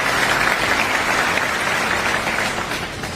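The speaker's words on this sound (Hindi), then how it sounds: "जोरदार तालियों से हम उनका स्वागत करेंगे" Loud, steady crowd applause welcoming Naveen Jindal at an Agrawal community gathering in Kurukshetra, a dense continuous roar of clapping that holds for about three seconds and eases slightly at the end.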